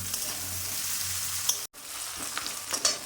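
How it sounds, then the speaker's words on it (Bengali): Onion and green chilli frying in a pan, a steady close sizzle with faint crackles and a brief stir, with no voices. "যতক্ষণ না লাল লাল হয়ে আসছে পেঁয়াজ, ততক্ষণ ভেজে নেব।"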